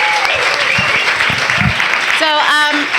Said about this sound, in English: So please give a round of applause for Betsy and also Tiana.